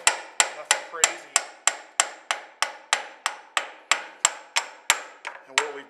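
Hammer tapping a loose exhaust part on a 1957 Ford 800 series tractor. About eighteen sharp metallic strikes come at a steady, even pace, close and ringing briefly after each blow.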